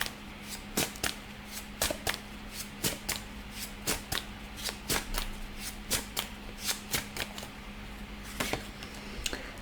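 Tarot cards shuffled and riffled by hand, a steady run of crisp, close slapping flicks and snaps with a faint low hum underneath and no talking.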